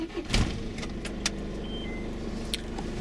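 A campervan's engine cranks and catches, then settles into a steady low idle, with a few light clicks and metallic jangles nearby.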